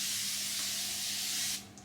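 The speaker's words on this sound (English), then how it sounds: "it's their translucent hydrating setting spray in ultra blur" A translucent hydrating setting spray in an ultra blur formula is misted in one continuous, close, fine hiss lasting about a second and a half before stopping.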